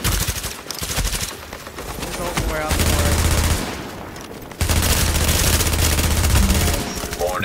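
Automatic gunfire in The Division, sustained bursts of rapid shots firing almost without a break amid loud game noise.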